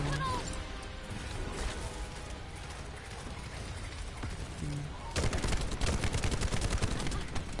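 Constant gunfire in The First Descendant video game as shots hit a boss's bubble, dense and rattling, swelling louder near the end, with a voice talking underneath.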